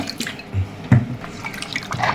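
Water poured over marinated mutton pieces for dum biryani, heard as a few close, brief drips and splashes over a quiet kitchen background.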